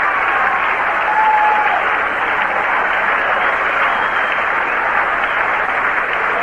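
Baseball crowd of Giants fans at a San Francisco afternoon game against the Phillies, roaring and clapping in a steady, dense wash of cheering and applause that holds loud for several seconds without a break.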